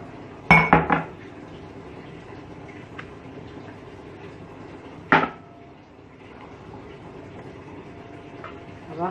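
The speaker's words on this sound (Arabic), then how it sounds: "وأغسل المواعين" Glasses, dishes and cutlery clink and clatter during dishwashing in a home kitchen, with two sharp bursts of clinking separated by quieter running background noise.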